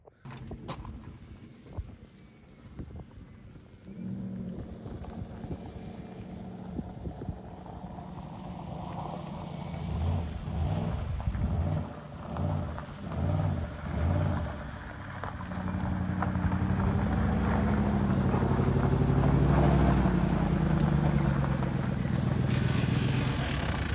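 A Cobra kit car hot rod engine runs and drives, a steady loud rumble that rises and pulses as it revs and shifts, carrying throughout with no talk over it.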